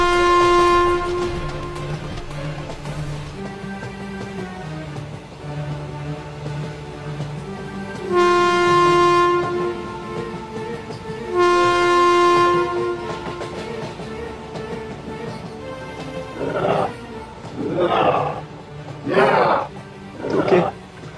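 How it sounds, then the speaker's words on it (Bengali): A cartoon train approaches, sounding drawn-out horn blasts over a backdrop of music, with a rhythmic rumble rising toward the end. "ওই দেখ ট্রেন আসছে।"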